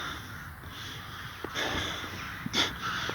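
Rooks caw faintly in the distance in a park at the start of winter, a few scattered harsh calls over a quiet outdoor background.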